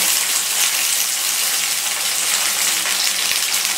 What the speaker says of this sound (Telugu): సో ఆయిల్ హీట్ ఎక్కింది కదా, ఇప్పుడు ఇందులో మనము ఈ పచ్చిమిర్చి ముక్కలు వేసుకోవాలి